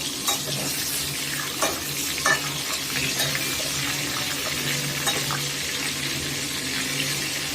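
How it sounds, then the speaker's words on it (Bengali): Whole pointed gourds (potol) deep frying in hot oil, with a steady dense sizzle and occasional sharper scrapes and clinks of a utensil lifting them out, moderately close and alone. "পটলগুলো ভেজে তুলে নিয়েছি বাকি পটলগুলো একইভাবে ভেজে নিচ্ছি"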